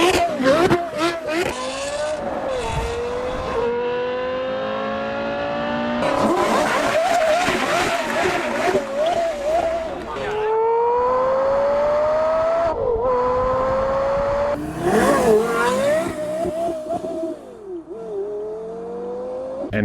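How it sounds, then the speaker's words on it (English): Real-world car engine revving hard through repeated rising gear pulls, loud and close with sharp throttle blips and brief gaps between runs; a voice talks over parts of it. "this is how the car sounds in real life."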